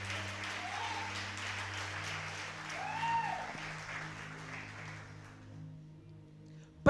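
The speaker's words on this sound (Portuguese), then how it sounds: "Pode aplaudir a Ele" A church congregation applauds during a Sunday celebration service, with steady, dense clapping over sustained low instrumental tones that thins and fades out toward the end.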